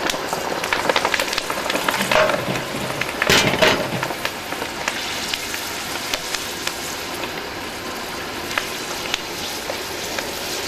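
A large handful of kaffir lime leaves sizzles and crackles in hot oil, a loud steady frying hiss with a burst of spitting pops around the third second, then settling into continuous bubbling.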